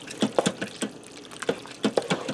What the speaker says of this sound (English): that cheese is melting in there as I'm swishing around